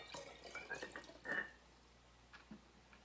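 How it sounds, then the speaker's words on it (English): White vinegar being added to water for homemade fabric softener makes a faint, close trickle and splash of liquid in short bursts, then fades to a quiet room with a couple of small drips. "to that we're going to add 1 cup of white vinegar"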